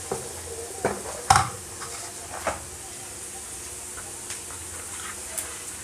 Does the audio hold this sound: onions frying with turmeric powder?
yes